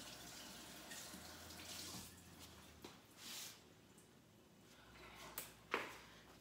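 Tap water runs into a kitchen sink while raw meat is rinsed under it, a steady quiet splash with a few louder surges and drips near the end.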